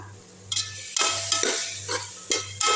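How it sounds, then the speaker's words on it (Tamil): Mutton biryani masala with yogurt stirred and sautéed in a pot, a continuous sizzle with repeated scraping strokes of a spoon against the metal, close and fairly loud, over a low steady hum. "நல்லா வதக்கி விட்ருங்க."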